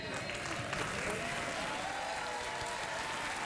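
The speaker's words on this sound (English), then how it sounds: "Australia gets a round of applause" Steady applause from a late-night talk show studio audience, a broad continuous clapping crowd heard somewhat distantly and evenly over a few seconds, with faint chatter underneath.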